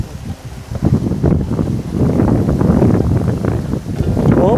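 Strong outdoor wind buffeting a camera microphone during street solar light installation, a loud continuous rumbling roar with gusty surges, low voices faintly mixed in.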